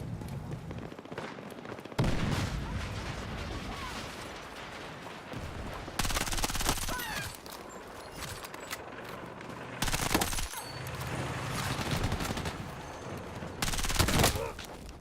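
Automated turret gunfire in Battlefield 6, several loud bursts of rapid automatic fire separated by quieter stretches, with voices talking between the volleys.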